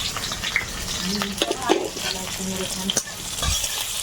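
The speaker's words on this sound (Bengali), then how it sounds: "কড়াইয়ে তেল দিয়ে দেবো এপাশে চাপিয়ে দেব ওল শাক তেলে রসুন কুচি একটু কাঁচা লঙ্কা কালো জিরে" Garlic, green chili and black cumin frying in hot oil in a wok, a steady close sizzle with scraping stirs and a few clinks of the utensil against the pan.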